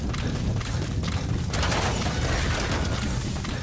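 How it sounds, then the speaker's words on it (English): An explosion in Metal Gear Solid V comes as a loud, booming rumble with low thuds and crackling debris, sustained across the stretch and swelling again midway, with no voices. "Boss, did you see that explosion?"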